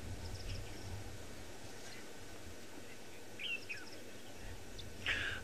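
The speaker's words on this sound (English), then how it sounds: "In the background, we can hear some doves just chirping and calling." Out on a wildlife safari, doves call and chirp faintly in the distance, a few brief scattered notes over a quiet, steady outdoor background.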